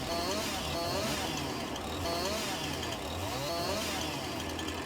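A chainsaw in Farming Simulator 19 cuts through tree limbs, its rough engine buzzing steadily and loudly for the whole stretch, with rising and falling pitch as it bites into the wood.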